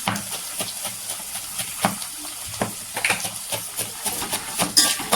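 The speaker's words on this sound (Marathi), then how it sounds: "टोमॅटो छान असं परतून घ्यायचं" Onion and tomatoes sauté in oil in a pan with a soft, continuous hiss, and a spatula scrapes and stirs now and then, close by with no talking.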